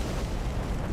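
A Sacred Flame spell bursts in Dark Souls 3, a dense, rumbling fiery explosion that fills the whole moment, loud and close, with no speech.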